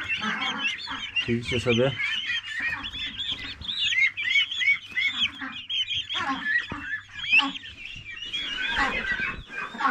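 Ducks and chickens on a Polish farm flock near the coop, with busy quacking, honking and clucking overlapping almost continuously close by, and someone speaking briefly over the birds.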